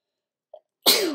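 A single loud, close sneeze bursts out after a tiny faint sound, a sharp broadband blast that trails off over a fraction of a second.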